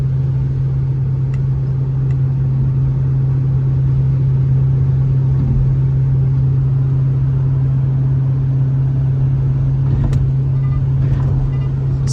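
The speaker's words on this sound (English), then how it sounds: "So more of that engine drone." Genesis car with an upgraded exhaust, cruising steadily into a headwind, giving a constant low engine drone heard from inside the cabin, even and unbroken throughout with a couple of faint brief clicks.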